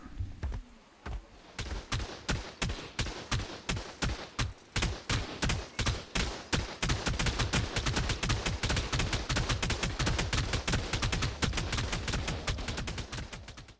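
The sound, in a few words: tech turret firing in video game Ark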